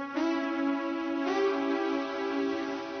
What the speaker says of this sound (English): The diminished chord sounds like this.